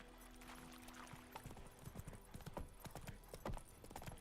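Horse hooves clip-clop at a trotting pace in The Witcher 3 video game, sharp and rhythmic over a low steady background, fairly near and moderately loud.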